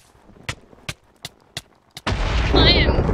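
Missile explosions in the Minecraft Hypixel Hunger Games video game: several sharp thuds in a row, then a loud roaring blast that holds to the end.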